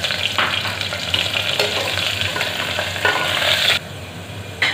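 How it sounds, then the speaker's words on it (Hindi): Onions sizzling and frying in hot oil left over from frying kofta for a kofta aloo curry, with steady crackling and occasional stirring scrapes, close and fairly loud without any talk. "ये देखिए इसी में हम प्याज डाल देंगे"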